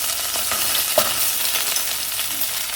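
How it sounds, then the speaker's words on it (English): Chopped celery frying in a pan over turned-down heat, a steady broadband sizzle with faint scraping stirs, close and continuous with no talk. "Put in the celery, chopped up"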